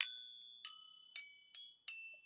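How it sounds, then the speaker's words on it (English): A bell tree, a stack of graduated metal bells, is struck in five bright, ringing strikes spaced about half a second apart, each with a long shimmering decay, heard clearly and alone. "So this is what we call a bell tree."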